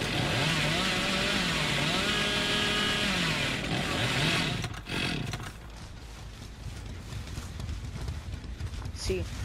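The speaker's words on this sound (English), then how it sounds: "See, I rev up my chainsaw like this, because then they could hear it" Chainsaw revving in the horror game Dead by Daylight, a loud buzzing engine rising and falling in repeated surges for several seconds, then cutting to quieter game ambience with scattered noises.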